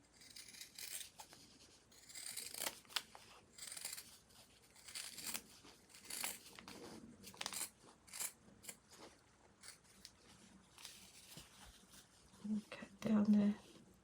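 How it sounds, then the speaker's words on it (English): Scissors work through thick Crown Royal bag fabric to cut flower petals, producing repeated close crunching snips and rustling crinkles at an uneven pace, with faint whispery sounds between cuts. "It's just quite a bit of fabric to cut through."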